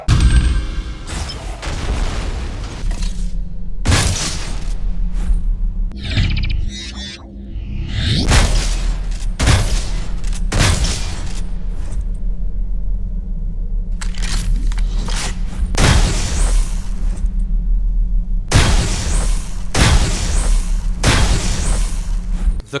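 Combat shotgun in a first-person shooter video game fires repeatedly in heavy, booming blasts at an irregular pace, loud and close, with ringing tails over steady low game background noise and no talk.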